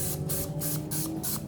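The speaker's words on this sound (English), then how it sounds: "And Dominic's going to spray his container." Cooking grease spray spritzed into a container in a home kitchen, several short hissing bursts in a quick rhythmic series, close and clear with no voices.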